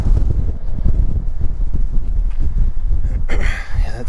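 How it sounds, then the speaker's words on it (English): Strong wind from an approaching storm buffets the microphone in loud, continuous low rumbling gusts that surge and dip for several seconds, with no voices. "The wind is kicking up hard now."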